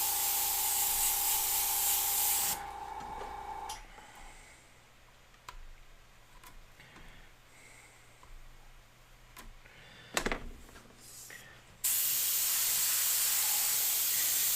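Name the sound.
airbrush spraying paint on a skull flag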